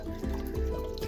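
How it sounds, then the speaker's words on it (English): Water draining from a travel trailer's hot water tank during winterizing, a steady close gurgling trickle with light dripping throughout. "Gotta drain out the hot water tank."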